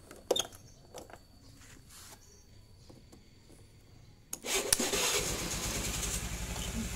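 Starter motor of a carbureted Honda Vario/Beat scooter: a few faint clicks and quiet shuffling, then an abrupt, loud, steady whirring drone that begins about two-thirds through and runs to the end.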